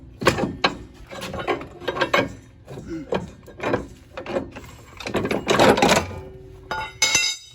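Ratchet wrench working loose the strut bolts on a Honda S2000 during a coilover install, giving bursts of quick mechanical clicking and clattering at close range, with pauses of handling noise between runs.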